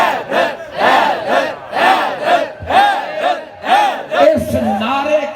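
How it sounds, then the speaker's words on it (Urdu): A crowd chants "Haidar" in loud, rhythmic unison at a religious gathering, with repeated surging shouts about once per second. The chanting stays close and dense from start to finish. "یہ جو نعرے اب لگتے ہیں نا، حیدر حیدر حیدر"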